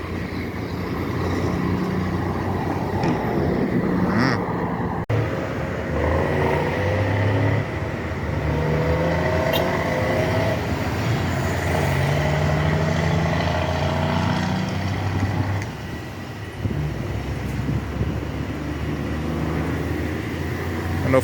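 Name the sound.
N14 truck engine revving on highway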